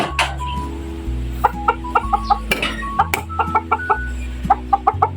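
Chickens cluck in short, repeated bursts close by, with a steady low musical tone humming underneath.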